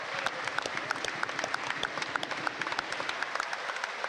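Rugby league crowd at a York Knights home match applauding an injured player as he walks slowly off the field, a broad steady wash of clapping heard from a distance, with no talk over it.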